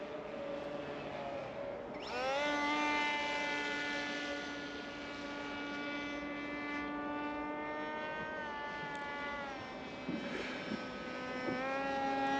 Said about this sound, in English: So it is just loud with the massive propeller it's got on it.